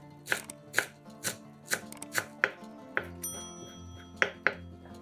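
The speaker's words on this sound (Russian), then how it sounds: "Нарезаем пучок петрушки." A knife chops a bunch of parsley on a cutting board in a steady series of sharp, close thuds, about ten strikes with brief pauses between them.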